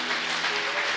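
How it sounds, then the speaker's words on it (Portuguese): Dense applause from a church congregation, a continuous wash of clapping with faint voices mixed in. "aplauda mais forte"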